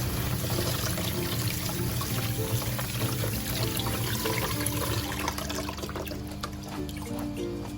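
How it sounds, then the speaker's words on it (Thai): Boiled red beans rinsed under running water, a loud continuous pour and splash of water that sloshes steadily and eases slightly toward the end, with no voices. "เสร็จแล้วเราก็ล้างถั่วสักหนึ่งรอบ"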